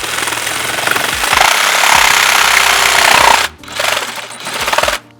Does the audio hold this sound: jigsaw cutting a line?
yes